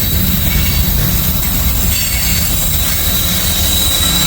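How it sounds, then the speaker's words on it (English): A heavy freight train with a DPU locomotive working hard up a hill rolls past close by, a loud continuous rumble of wheels and railcars with squealing flange noise and no talk. "DPU coming through."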